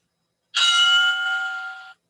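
A workout interval timer bell at a bootcamp class rings once, a single loud sustained electronic ding that holds steady for over a second before cutting off cleanly, heard alone.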